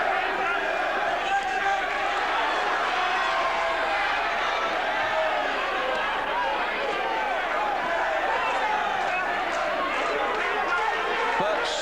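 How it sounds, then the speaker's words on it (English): A boxing crowd of Billy Schwer supporters cheers their fighter in a 1993 bout, with a steady, dense roar of many voices filling the hall throughout and no letup. "the Schwer contingent cheering their man on to what they are convinced is victory"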